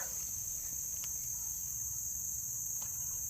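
Crickets chirp in a forest, a steady, high-pitched continuous trill that runs unbroken from start to end with no voices.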